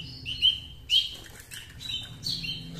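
Baby birds chirp in a nest, giving a few short, high tweets in quick bursts with faint rustling between them, close by and fairly quiet.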